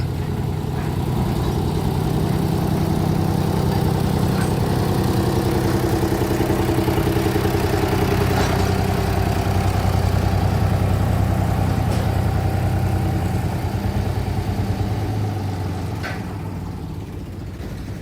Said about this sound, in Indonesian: Dan sekarang ganti lokomotif nomor 10 yang mundur mendorong lori bermuatan tebu ini untuk dirangkaikan dengan lori bermuatan tebu yang ada di belakang.